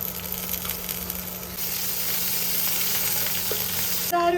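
Coriander and chillies frying in hot oil in a pan, a continuous close sizzle that grows denser midway, with a short clatter near the end.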